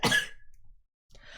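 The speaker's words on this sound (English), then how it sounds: "I have not coughed this much all day." A single short, loud cough burst at close range opens the clip, followed by a near-silent pause and then faint rustling noise.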